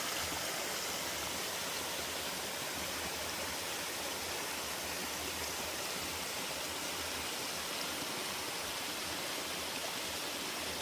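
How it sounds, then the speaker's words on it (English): A clear mountain stream rushes steadily along the Appalachian Trail, its broadband water noise continuous and fairly close for the whole stretch, with no voices. "Clear mountain water."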